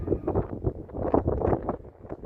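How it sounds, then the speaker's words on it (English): Wind gusting across the microphone inside Rochester Castle, a medieval stone keep, heard as low, buffeting rumbles that swell and fade in quick irregular pulses, loud and close with no talking. "Oh, wind, stop it."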